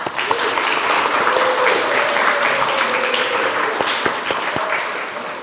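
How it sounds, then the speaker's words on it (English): Sustained applause from a crowd, steady and enthusiastic throughout, with a few sharper individual claps standing out near the end. "Let's give ourselves another round of applause."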